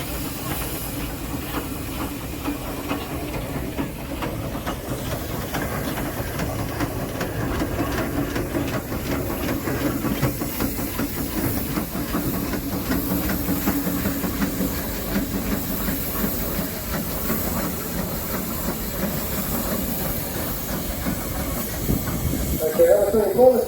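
A steam Showman's engine, converted to Showman form, hisses in a steady broad rush with faint mechanical clicking underneath, holding level throughout at a rally.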